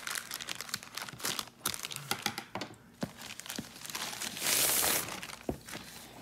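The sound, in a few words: crinkling plastic bag packaging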